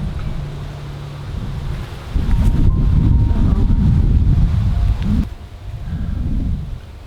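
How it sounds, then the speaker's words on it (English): Gusty wind buffets the microphone outdoors in a vegetable garden, a steady low rumble that swells stronger for a few seconds and then eases, with no voices. "Why does it always get windy right before?"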